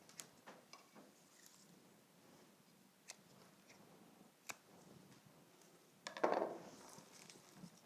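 Scissors snipping wispy paperwhite flower stems in quiet surroundings: a few sharp, isolated clicks spread apart, then a brief louder rustling cut.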